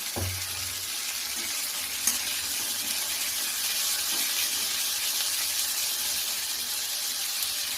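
A steady sizzle of marinated potatoes frying in a pan for chilli potato, continuous and fairly quiet, with an occasional light clink.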